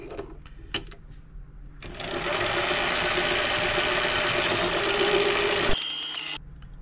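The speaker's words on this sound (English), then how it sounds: "lathe for this cut." A lathe cuts a brass-style hub part down to a quarter inch for a desktop orrery solar system model, a steady broadband machining whir running about four seconds after a start, close and fairly loud, ending with a brief sharper burst.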